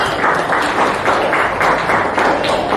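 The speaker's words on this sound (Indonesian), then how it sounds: "Tepuk tangan kedua lagi" A classroom of students gives a round of applause, a steady dense patter of many hands that swells in rhythmic pulses, close and fairly loud, with no talking over it.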